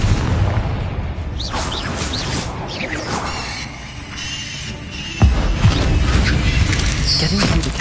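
A Confringo blasting spell from Hogwarts Legacy goes off amid whooshing magical effects and a sharp, loud burst near the end, with other spell sounds and game noise around it.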